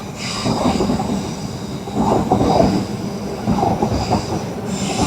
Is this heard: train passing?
yes